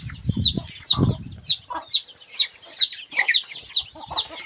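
A flock of chickens clucks and cheeps close by in rapid, overlapping calls while being fed in the evening, with a few soft low thumps near the start.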